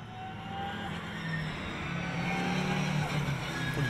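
Lamera Cup race cars circle the Red Bull Ring, a sustained engine drone at moderate distance that gradually grows louder, heard beneath a commentator's voice.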